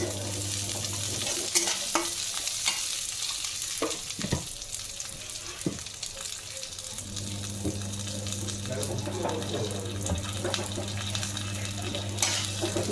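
Moong dal frying and being stirred in a pan, with a steady sizzle and scraping stirring strokes, plus some faint clatter and water-like sounds close by.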